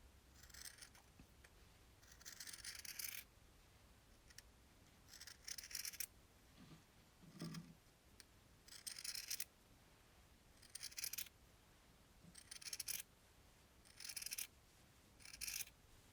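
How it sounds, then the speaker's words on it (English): Scissors cut a straight line through a T-shirt in a series of close, crisp snips, each burst of cutting separated by short quiet gaps. "So I'm literally just going to cut a straight line."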